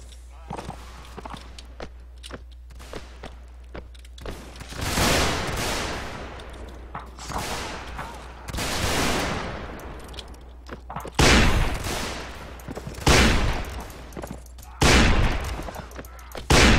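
Musket volleys ring out in a Mount & Blade commander battle: several loud, crackling bursts of massed gunfire come at intervals between quieter stretches of footsteps and movement, with voices in the background.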